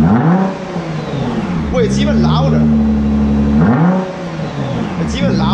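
A 2017 Nissan GT-R engine with an Armytrix exhaust revs loudly and holds a steady drone, rising again near the end, while a person speaks over it.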